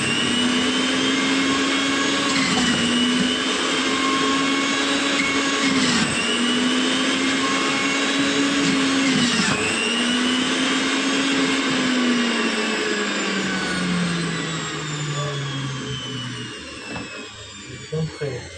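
An electric orange juicer whirs loudly and steadily, with a few quick surges in pitch early on before the motor gradually winds down toward the end.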